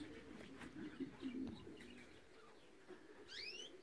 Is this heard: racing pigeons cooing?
yes